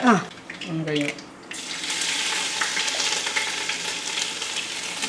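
Spices, with ginger, green chilli and garlic, sputter and sizzle in hot oil, opening with a few sharp pops and a voice before settling into a steady frying hiss.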